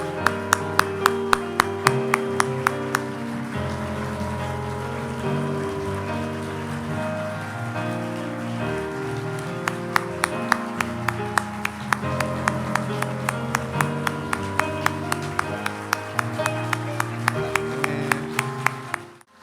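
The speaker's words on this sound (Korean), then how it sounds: "네, 더 뜨거운 박수로 축하해 주십시오." Church congregation clapping in a steady rhythmic beat over organ or keyboard music during Sunday worship, the claps crisp and regular, fading briefly mid-way before returning strongly.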